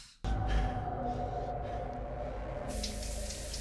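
Shower water runs in a steady, close hiss that starts abruptly and continues without pause, with a brief brighter splash near the end.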